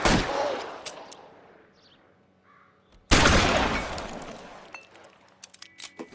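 Gunfire in the video game LA Noire: a loud shot that fades, then another heavy blast with a long tail, followed by a quick run of smaller sharp pops.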